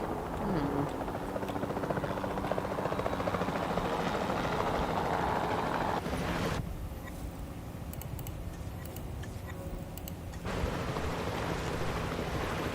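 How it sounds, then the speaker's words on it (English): A capture team helicopter in the video game Jurassic World Evolution 2 drones steadily throughout, its rotor and engine noise continuous with a muffled, quieter stretch midway before returning to full level. "Then the sensible thing is to take a capture team helicopter. You can trank it from the air."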